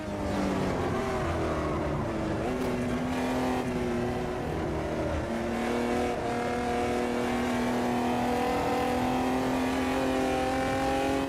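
Mini Cooper race cars roar around an oval track, engines droning loudly and continuously with rising and falling pitch as they run close together in a slipstream, with no talk.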